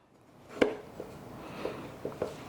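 A kitchen knife chops through fresh ginger to trim off the brown skin, giving a few sharp, close taps on a cutting board, one louder stroke followed by several softer ones, in a quiet room with no talking.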